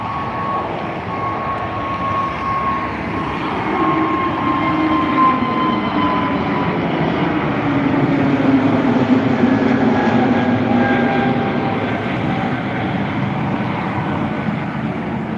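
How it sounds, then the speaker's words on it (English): A Lufthansa CityLine Airbus A320neo takes off from Dublin Airport, its steady, broad jet roar swelling gradually and holding at a distance for the whole stretch, with no voices over it. "now the Lufthansa City taking off to Frankfurt or Munich, an A320neo"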